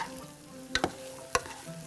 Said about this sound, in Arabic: بشوحهم مع بعض، بصوا حلوة ازاي